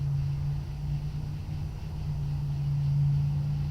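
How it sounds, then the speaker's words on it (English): A loud car passing by outside on a busy street, a steady low engine rumble with a droning hum that swells slightly toward the end, with no voices. "There's a car going by that's loud."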